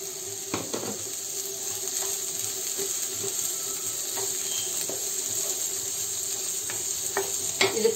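Carrot, cabbage and vegetables stir-fry in a hot pan for Schezwan fried rice, a steady close sizzle with repeated scraping and clinking of a spatula stirring at irregular intervals.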